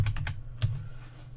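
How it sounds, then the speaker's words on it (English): Keys tapped on a computer keyboard in short bursts: three quick strokes, then a single later keystroke, fairly faint over a low steady hum, with no voice. "Let me use my keyboard."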